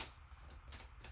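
Tarot cards are shuffled up close in a few quick riffling bursts, soft and crisp, with no talk.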